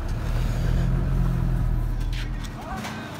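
A Mercedes 814 truck rumbles along a rough, bad road near a terminal under construction at Domodedovo airport, its engine a steady low drone throughout.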